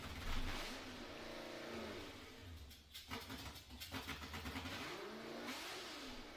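A car with a reversed LS engine revving hard on a drive-by, a loud, rough mid-pitched roar that rises and falls with burbling pops, heard from nearby with no talking.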